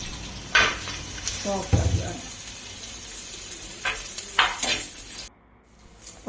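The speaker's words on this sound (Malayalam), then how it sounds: "ആ ഉള്ളിയെ നമ്മൾ ഒന്ന് വഴറ്റിയെടുക്കണം" Onions softening in a hot pan for a Kerala-style fish-head curry, with scraping stirs, pan and utensil clatter and a low background sizzle, plus a few louder clanks.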